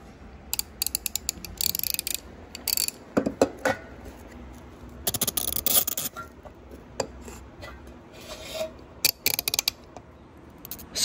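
A 160-tooth hand ratchet being cranked in a garage built inside a school bus, fine rapid clicking in bursts with pauses and some clanking of tools in between.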